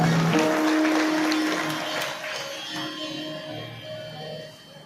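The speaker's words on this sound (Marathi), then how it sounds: "टाळी वाजवून त्यांचं अभिनंदन" Applause for Suresh Maharaj from an audience at a Marathi kirtan gathering: a broad wash of many hands clapping that fades gradually over a few seconds, with a sustained tone lingering beneath.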